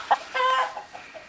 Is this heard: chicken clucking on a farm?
yes